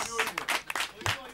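Audience applause at an Eid celebration stage show, welcoming the next singer, a Baul performer; a lively burst of clapping with crowd noise, fairly close and steady throughout, with brief shouts mixed in.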